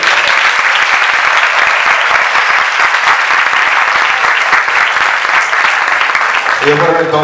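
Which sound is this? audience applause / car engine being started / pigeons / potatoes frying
audience applause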